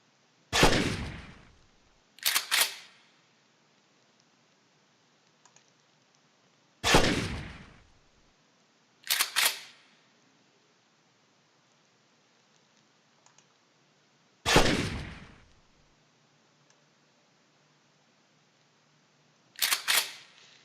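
Gunfire in a third-person zombie shooter game under development, single sharp shots and quick double shots spaced several seconds apart, each with a short decay, alone over near silence.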